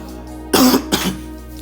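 A single sharp cough, then a second smaller one, loud and close with no talking.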